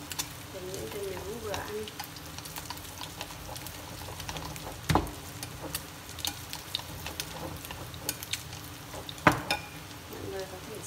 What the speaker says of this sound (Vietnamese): Và mình sẽ rán cái phần hỗn hợp này.